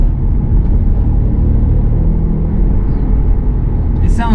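A 2001-2005 Honda Civic engine idles right after an oil change, giving a loud, steady low rumble that runs continuously close by, with a brief bit of voice near the end.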